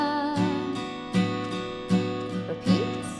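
Acoustic guitar strumming the chorus chords of a song at a steady, moderate pace, with rhythmic strum accents about every second, close and alone without voice.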